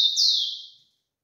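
A female rufous-collared sparrow (tico-tico) gives a single clear, high, slightly descending whistled call, close and loud, fading out in under a second against silence.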